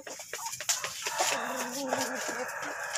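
Ayam Cemani chickens cluck in a pen on a farm that also keeps turkeys, a busy, close chorus of short clucks and calls with a rooster-like cry. A person talks over it.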